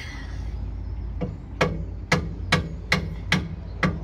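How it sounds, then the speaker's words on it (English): Seven sharp, evenly spaced hammer blows ring out on metal, tapping out bolts during a car's rear suspension install, close by, over a low background rumble. "I'm going to grab a hammer to tap those out"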